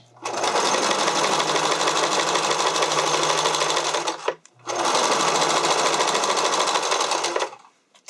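Sewing machine running steadily to stitch elastic onto a figure skating skirt, a loud continuous whir in two long bursts separated by a short pause.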